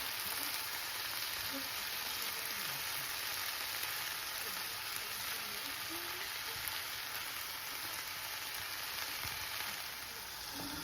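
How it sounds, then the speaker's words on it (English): Broccoli and corn seasoned with garlic powder, salt and pepper fry in a pan for pasta primavera, giving a steady, close, moderately quiet sizzle with a constant hiss throughout and no talking. "I'm just going to let them cook out right now."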